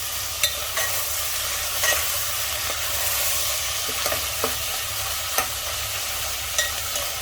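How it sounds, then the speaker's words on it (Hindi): Minced mutton frying with onions in a pan for a Sindhi-style mutton curry gives a steady, close sizzle, broken by occasional sharp clicks and scrapes of a stirring spoon. No one talks. "तो कीमे को भी प्याज के साथ अच्छे से भून लेना है।"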